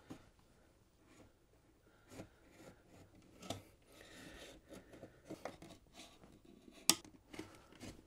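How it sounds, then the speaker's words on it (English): A razor knife scoring around the painted seal of an electrical cover plate, giving faint, close scraping and rasping strokes with scattered soft knocks and one sharp click near the end, no voices. "So let's take a razor, kind of go around."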